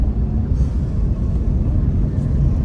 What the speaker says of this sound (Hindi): हाँ बहुत ट्रैफिक है आज